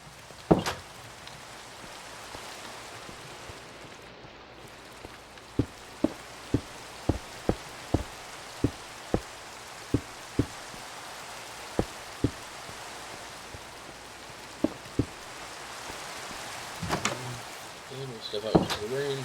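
Minecraft rain hisses steadily in the background while a string of sharp, evenly spaced clicks and taps repeats through the middle, with a few heavier knocks near the end.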